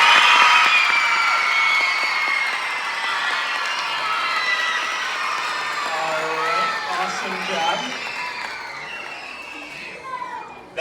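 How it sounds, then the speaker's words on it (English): A gathered crowd of students cheers, claps and screams for their teachers at a school award event, a loud sustained roar of whoops and high shrieks with clapping underneath that gradually eases toward the end. "get as loud as you can for your teachers and clap and cheer and yell and scream"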